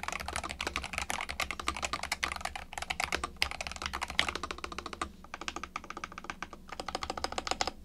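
Fingers type steadily on a gaming keyboard, producing a dense stream of close, crisp key clacks with brief pauses between bursts and no talking.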